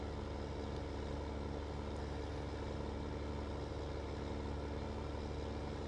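Tractor engine in Farming Simulator 2015 labouring as it hauls up a hill, a steady droning low rumble that holds at a constant level throughout with no talk over it.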